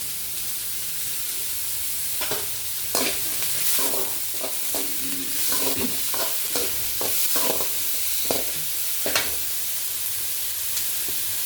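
Dried chillies and greens sauté in hot oil, giving a steady sizzle broken by repeated scraping stir strokes close by, with no voices.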